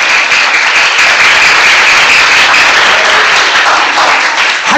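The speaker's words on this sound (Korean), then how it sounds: "믿어지는 영광의 박수" A congregation at a healing revival service in Sisophon, Cambodia bursts into loud, close applause, dense clapping that holds steady for several seconds.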